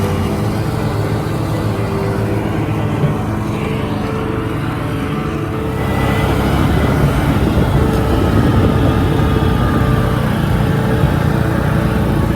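Lawn mower cutting grass during the last yard mowing of the year, a steady loud close engine drone that runs throughout and grows slightly heavier partway through, with no talking.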